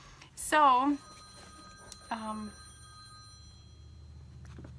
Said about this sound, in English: is that my phone? Hold on.